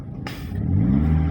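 A car engine revs up during a driving lesson, a brief clunk followed by a rising, steady mid-pitched engine drone as the car accelerates nearby.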